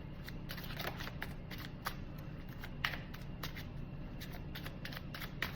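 Oracle cards are shuffled in continuous quick riffling and slapping bursts, close and fairly quiet, with no voice over them.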